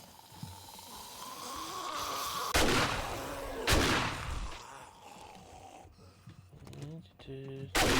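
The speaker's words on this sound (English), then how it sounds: "Wow, 3 shots and not a single one even came close" Three loud gunshots from a firearm in the survival game 7 Days to Die crack out at intervals against a steady ambient game background, with brief talk near the end.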